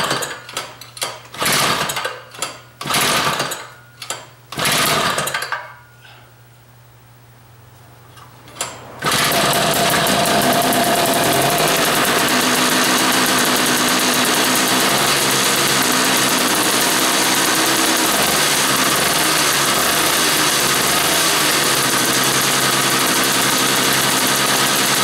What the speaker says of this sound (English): now we have the motor out of that snowblower, and let's give it a yank